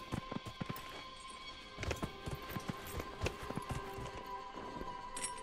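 Horse hooves clip-clopping in a steady running rhythm as a rider travels in the fantasy video game Dragon Age Inquisition, fairly quiet and close, with no talk over it.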